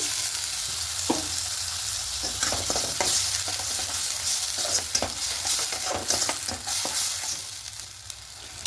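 Egg curry (dim kosha) being sautéed and stirred in a pan, a steady loud sizzle broken by repeated scraping strokes of a spatula, close up with no talking.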